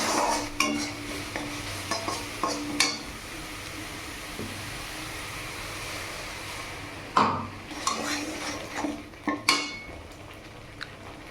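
Eggs frying with spices in an oil-filled pan, with a spatula stirring and scraping against the metal in repeated clattering strokes over a steady sizzle.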